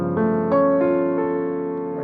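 Piano sounds a dissonant chord from Debussy's Rêverie, its notes entering one after another in a short rolled sequence and left to ring, played solo with no talking.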